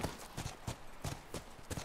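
Steady clip-clop of a horse's hooves at a trotting rhythm in the video game The Last of Us, evenly repeating and fairly quiet, with a synthetic, game-like quality.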